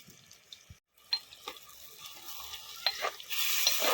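Cleaned prawns are stirred with turmeric and salt in oil in a clay pot, with soft scraping and a faint sizzle that grows louder and steadier toward the end.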